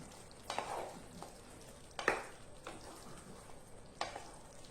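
Green chillies and curry leaves fry in a pan for chicken curry with a soft, steady sizzle, punctuated by a few sharp stirring scrapes, fairly quiet and close.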